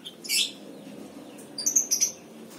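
A songbird that has just been bathed and is half-dried gives two short, bright chirping bursts close by, one early and a rapid run of chirps later, with no talking.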